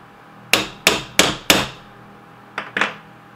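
Hammer striking silver and brass to dome the metal, six sharp ringing metallic blows: four evenly spaced, a short gap, then two more, close and loud.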